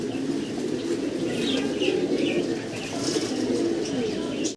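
Fancy pigeons of mixed local and foreign breeds, including pencil pigeons, coo steadily in a loft, a continuous low murmur of several birds with occasional wing flutters and chirps, no talking.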